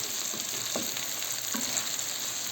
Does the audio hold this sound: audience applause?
no